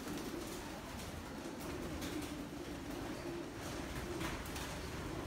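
Racing pigeons coo inside a breeding loft belonging to a German champion fancier, a soft, continuous chorus of low burbling calls at moderate distance with faint background rustle and no speech.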